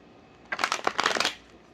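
Tarot cards being gathered and shuffled, a short close burst of crisp rapid card riffling lasting under a second, alone without talk.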